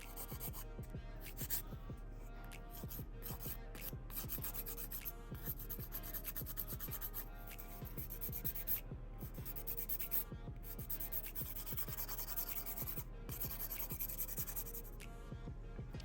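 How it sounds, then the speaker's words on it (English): A nail file rasps back and forth across a gel nail, a close, steady run of quick scratchy strokes repeating in an even rhythm throughout, with no talking. "Wipe off the sticky layer once again, and start finish filing."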